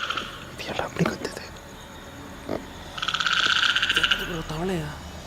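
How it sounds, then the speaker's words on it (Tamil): A frog croaks in a rapid pulsed trill lasting about a second, close and fairly loud, with scattered murmured voices and rustling before it. "இது ஏதோ தவளை தான்"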